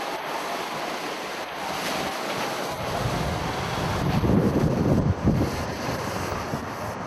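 Roaring river current churns loudly and steadily while a rubber raft is paddled through rocky rapids, a broad rushing wash with wind buffeting the microphone and surges swelling midway.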